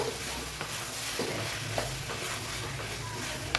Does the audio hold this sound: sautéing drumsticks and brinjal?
yes